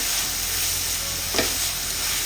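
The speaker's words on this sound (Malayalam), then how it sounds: "എല്ലാം ഒന്ന് ഇളക്കി കൊടുക്കാം" Shredded cabbage and carrot are stirred in a hot oiled pan, heard as a steady close sizzle with one brief scrape of the spoon partway through.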